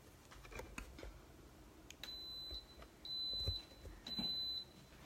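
An Instant Pot pressure cooker beeps as it begins sealing for a chicken soup: three short electronic beeps spaced about a second apart, clear over a quiet kitchen background.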